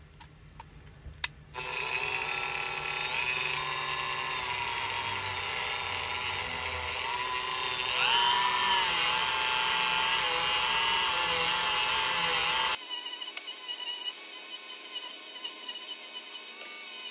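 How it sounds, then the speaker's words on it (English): A Dremel rotary tool with a wire brush cleans the threads of a Redding Big Boss 2 die press, a steady high-pitched whine running for about eleven seconds after a few brief clicks, then cutting off abruptly. "go in here with a Dremel and wire brush, get these threads cleaned out so that it's ready to have the inserts threaded back in"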